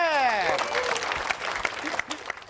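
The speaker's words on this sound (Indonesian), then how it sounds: "Oke, tepuk tangan buat Asep." Studio audience applause on an Indonesian TV talk show breaks out over a fading tonal chime, then carries on as scattered, uneven clapping that thins toward the end.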